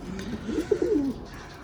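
A pigeon gives a single soft, low coo close by during a windy storm, a brief rolling call over faint background noise.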